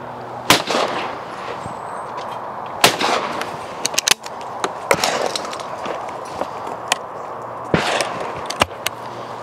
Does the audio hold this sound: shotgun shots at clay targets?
yes